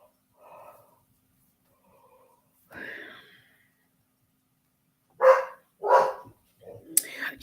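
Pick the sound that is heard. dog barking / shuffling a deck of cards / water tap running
dog barking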